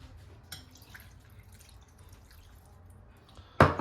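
Apple cider vinegar is poured for a sea bass marinade, heard as soft, faint drips over quiet room noise before a short, louder splash right at the end.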